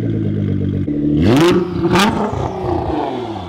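2018 Nissan GT-R engine revving while driving, with a steady interior drone that rises sharply through two quick rev surges and then settles back, heard close and loud with mechanical whir.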